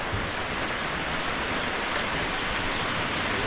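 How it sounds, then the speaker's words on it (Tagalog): Heavy, steady rain pours down in a loud, unbroken hiss, with scattered drops striking close by and no voices. "Maaraw kanina tapos umuulan."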